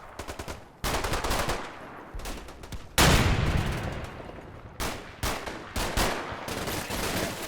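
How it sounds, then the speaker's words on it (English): German machine gun fire in Combat Mission Final Blitzkrieg, a WWII strategy game: repeated loud bursts of automatic fire in separate volleys, with a heavy burst at mid-clip and shorter rattles toward the end. "most of the German machine gun fire is concentrated on the west flank."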